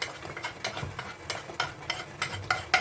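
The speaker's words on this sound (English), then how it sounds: "I'm going to mix all the spice masala with the tomatoes." A utensil stirs spice masala into tomatoes in a pan, rhythmic scraping strokes about every half second with a light sizzle beneath, close and clear.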